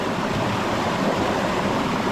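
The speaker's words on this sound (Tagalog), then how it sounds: "Malakas ang agos ng tubig." Steady, dense rushing of a river flowing strongly, a continuous broadband roar with no pauses and no voices.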